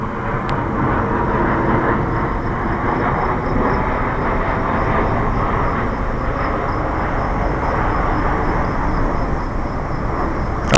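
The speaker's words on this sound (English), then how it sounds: "sorry, airplane overhead" An airplane passing overhead outdoors near a truck trailer rebuild, a continuous broad low roar that holds steady and loud for the whole stretch, with no talking.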